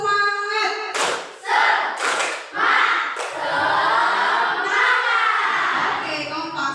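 A class claps a cheer rhythm together in a quick patterned burst, sharp loud slaps clustered near the start, followed by a long stretch of shouting and chatter.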